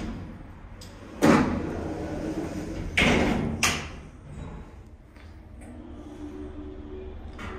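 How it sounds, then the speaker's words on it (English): Sliding doors of a 1997 Otis lift with 1600 kilogram, 21-person capacity open in a shopping centre, giving two firm thuds and a clatter over steady background hum in an enclosed car. "Door open."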